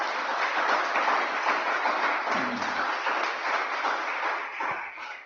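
A church congregation applauds in steady, dense clapping that fills the room for several seconds and thins slightly near the end.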